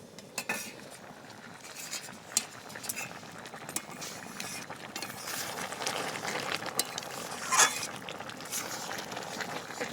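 Chicken curry being stirred in a pot with a utensil: steady scraping and clinking of metal against the cookware, with a soft bubbling simmer underneath and a few sharper knocks.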